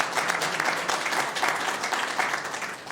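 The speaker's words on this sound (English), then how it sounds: "Round of applause." Round of applause at a county Board of Supervisors meeting, a moderately loud, continuous crowd of clapping hands that swells slightly in pulses and carries on without speech.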